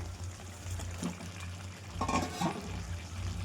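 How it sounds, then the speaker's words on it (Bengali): Fried potatoes tumbling into a pan of chicken that has been browning, giving a short burst of soft thuds and stirring clatter over a low steady cooking hum, fairly quiet throughout. "এবার ভেজে রাখা আলুগুলো দিয়ে দেবো"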